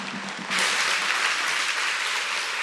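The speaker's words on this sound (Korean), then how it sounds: "여러분 뜨거운 박수로 환영해 주시기 바랍니다" A church congregation at a Sunday worship service gives warm applause to welcome an elder to the pulpit; after a brief quiet lead-in, dense clapping from many hands swells suddenly and holds steady and full.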